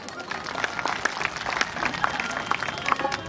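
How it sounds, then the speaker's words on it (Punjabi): Audience clapping at a live Punjabi stage show in a village, steady dense applause from a crowd filling the whole stretch with scattered sharper claps, moderately close and without talk. "ਜੇ ਗੱਲ ਸੱਚੀ ਹੈ ਤਾਂ ਤਾੜੀ ਪਾ ਦਿਓ।"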